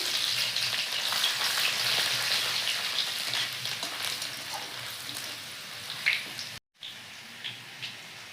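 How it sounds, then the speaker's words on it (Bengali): Garlic frying in a pan with whole cumin and bay leaf gives a steady, close hissing sizzle that runs almost throughout, with a brief dropout near the end. "রসুনটা কিছুক্ষণ ভাজি নিয়েছি"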